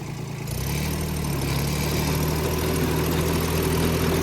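A tractor engine picks up in the first half second, then holds a loud, steady, rumbling drone while driving a mini rotavator.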